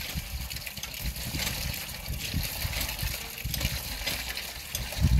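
Water is poured over someone bathing, with gushing and splashing sounds that rise and fall at moderate volume and end in a louder splash.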